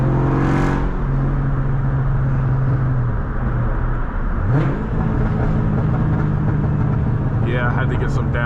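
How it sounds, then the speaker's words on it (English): A 500 hp Cobra engine revs and downshifts at dusk, loud and close, with a sustained droning note that drops, blips sharply upward mid-clip and settles again, a voice briefly audible near the end. "I had to get some downshifting in before we go and put it up for the night."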